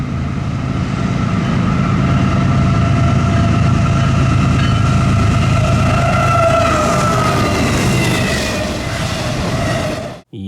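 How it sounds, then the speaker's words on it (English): An eastbound freight train led by two GE GEVO locomotives passes a grade crossing, its horn blaring loudly in sustained multi-tone blasts over a heavy rumble of engines and rolling wheels, cutting off abruptly at the end. "It was a random eastbound with two GEVOs."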